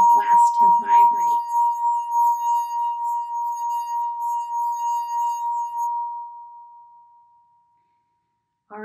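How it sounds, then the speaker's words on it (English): An empty drinking glass played as a musical instrument rings with a single pure sustained tone that holds steady for several seconds, then slowly fades away, with a brief voice at the start. "it really does sing when it's empty because there's a lot of glass to vibrate"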